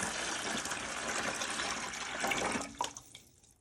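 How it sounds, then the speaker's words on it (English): Water pours steadily into a bucket, two quarts at a time, for egg water-glassing, a continuous splashing fill that ends abruptly with a few drips and sloshes. "I'm adding water, 2 quarts at a time."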